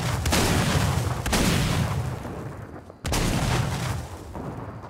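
Heavy booming gunshots in Fortnite, likely from a sniper rifle, with two loud cracks followed by long rolling echoes and a sudden third blast about three seconds in.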